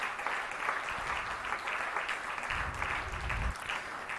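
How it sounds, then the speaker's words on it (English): A large hall audience claps continuously at an ISKCON Bangalore Book Marathon closing ceremony, even, sustained applause from a crowd without a pause, with low rumbling room noise toward the end. "I request a big round of applause"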